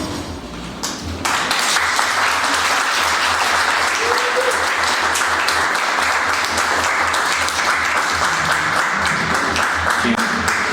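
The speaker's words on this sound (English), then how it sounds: "Everybody keep clapping for Mama Tribe coming up." An audience at a book release bursts into sustained, dense applause that starts suddenly and then holds loud and even, with faint cheering mixed into the crowd noise.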